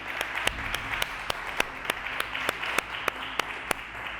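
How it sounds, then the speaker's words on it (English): A small crowd applauds summer interns at a billiards hall, a soft steady patter of clapping with a few sharp, louder individual claps standing out in a loose rhythm, no speech over it. "definitely want to just give them a round of applause for putting this together"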